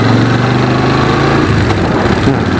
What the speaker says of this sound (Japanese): エンジンが非常に調子いいから